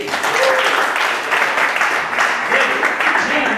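Men at a zouk dance workshop applaud the ladies, a dense, fairly loud burst of clapping that carries on for several seconds, with a voice speaking faintly beneath it.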